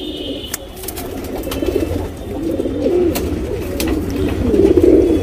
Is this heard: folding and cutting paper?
no